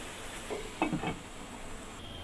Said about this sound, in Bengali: এখন আমরা এটা কষানোর জন্য ঘুরে দিব।